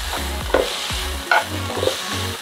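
Garlic frying in a pan for pan-seared salmon, a close, continuous sizzle broken by several sharp scraping stirs of a utensil against the pan, with no talking.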